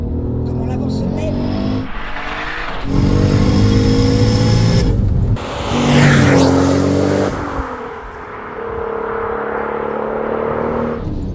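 A tuned Audi A3 V6 3.2 turbo making over 650 horsepower accelerates hard, its engine roaring up through the revs with a gear change around five seconds and another surge after, loud and close, while people talk over it.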